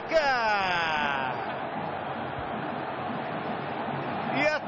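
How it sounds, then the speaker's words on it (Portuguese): Football stadium crowd roaring in a broad, sustained wash of noise, with a rising whistle-like tone at the start; a commentator talks over it. "E a torcida vai à loucura com ele."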